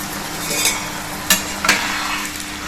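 Besan masala peanuts fry in oil over a low flame, giving a steady close sizzle with a few sharp clinks of a utensil against the pan.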